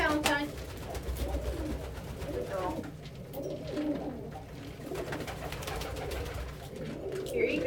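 Pet pigeons or doves cooing repeatedly at treat time, near and fairly loud, with soft rolling calls rising and falling, under a voice talking to the birds.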